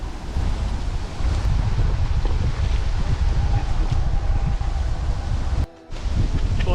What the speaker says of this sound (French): il y a le vent qui se lève